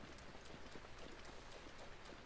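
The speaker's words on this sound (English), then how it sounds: "Why is it rain? Like, it has not stopped." Steady rain falls in the video game Breath of the Wild, a dense continuous hiss of drops with no pauses, heard alone at low level.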